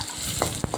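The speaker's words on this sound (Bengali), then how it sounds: "পেঁয়াজটা দিয়ে একটু আলতো করে নেড়ে নিলাম" Onions frying in a pan get a gentle stir, a brief scrape and rustle over a quiet sizzle with a couple of short sharp clicks.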